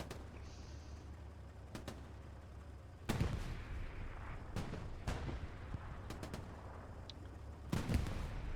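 Gunfire directed at a tank in the World War II shooter Hell Let Loose, heard as sharp, fairly distant reports spaced irregularly with a couple of heavier booms over a low rumbling background.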